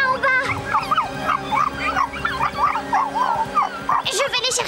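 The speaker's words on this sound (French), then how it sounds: "Mais regarde, Zik, ils aboient là en bas." Cartoon dogs yipping and barking in quick bursts, whimpering and yelping in a busy, animated cluster, with a voice speaking over them near the end.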